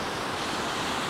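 Ocean surf washes steadily onto a shore as the tide rises, a dense, unbroken wash of water noise with some wind, alone and fairly close throughout.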